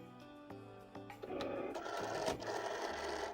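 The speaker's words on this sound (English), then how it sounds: "Now I'm going to feed it into my Cricut and cut." A Cricut cutting machine loads and cuts layered vinyl. Faint clicks and a button tone come first, then a quiet motorized whirring and grinding builds as the carriage moves.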